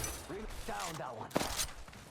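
A weapon is reloaded in Apex Legends while playing as Octane: a brief mechanical clack and rattle comes right after a short burst of voice.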